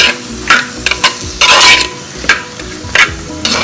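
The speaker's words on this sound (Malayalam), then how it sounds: "കറിവേപ്പില ഇതെല്ലാം കൂടിയിട്ട് ഒന്ന് ലൈറ്റ് ഗോൾഡൻ ബ്രൗൺ ആണ് വരെ ഒന്ന് വഴറ്റിയെടുക്കണം" Squid masala base sautéed with curry leaves until light golden brown: a close pan sizzle broken by several quick scraping stirs and a short louder burst of frying.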